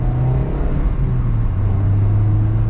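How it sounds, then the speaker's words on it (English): A 2022 Mazda Miata Grand Touring's 2-liter four-cylinder revs steadily while driving, a loud, close, continuous engine drone with a rising tone and no talk. "This 2-liter four cylinder is actually pretty happy to rev up"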